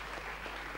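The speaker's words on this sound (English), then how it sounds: "Big round of applause, everyone, and good luck to you in the future." A studio audience at a 1985 television show applauds, a faint, even wash of clapping.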